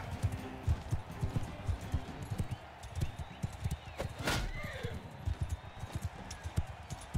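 Horse galloping in Mount and Blade II: Bannerlord, with a fast, continuous drumming of hoofbeats up close, mixed with battle noise and a brief swooshing sound midway, and no talk over it.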